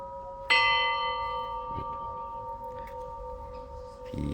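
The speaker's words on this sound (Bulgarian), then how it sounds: "Ето жената бие камбаните." A woman rings one of a collection of bells from various countries: one loud, close strike rings out and fades slowly, with a soft knock partway through and another strike beginning at the very end.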